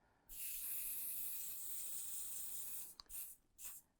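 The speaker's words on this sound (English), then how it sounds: "I'm just going to do the final hit with my hairspray or the sort of steamer." A hairspray can or small steamer gives a sustained close hiss of about two and a half seconds over a sugar magnolia decoration, followed by a couple of short bursts.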